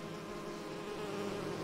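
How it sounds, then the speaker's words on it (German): Bees buzz in the fantasy game Skyrim Enderal, a steady, continuous droning hum that stays even and moderately loud throughout. "Ah, Bienen."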